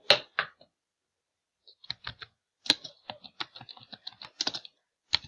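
Keys clatter on a computer keyboard in short irregular bursts, close and crisp, with brief pauses between runs of typing.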